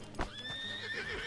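A horse in the Red Dead Redemption roleplay game gives one clear, drawn-out neigh with hoof clip-clops beneath it, close and prominent, no talking.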